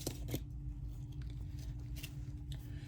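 Scissors cut through paper for lace-and-paper page embellishments: a few sharp snips near the start and again around two seconds, close and fairly quiet over a low steady hum.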